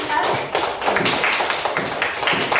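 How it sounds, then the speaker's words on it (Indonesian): Applause from a classroom of students, dense overlapping clapping that stays loud and steady, with a voice heard over it. "Kasih tepuk tangannya buat kita semuanya, kelas."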